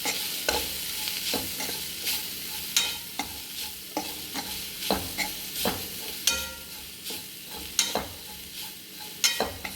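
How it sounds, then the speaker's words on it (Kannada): Potatoes frying with masala powder in a pan for aloo sukka are stirred with a spoon, giving a series of regular scraping strokes over a soft, constant sizzle, close and clear with no talking. "ಈ ಬಟಾಟೆ ಇಟ್ಟು ಮಿಕ್ಸ್ ಹಾಕಿತ್ತು"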